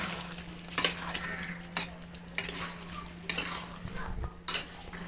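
Chicken with ginger-garlic paste, chili, turmeric and coriander powder fries in a pan in a steady low sizzle, with about five sharp metallic scrapes of a spatula stirring the meat at an irregular rhythm.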